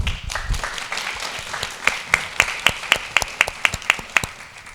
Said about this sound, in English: Now, let's give a warm round of applause for our moderator.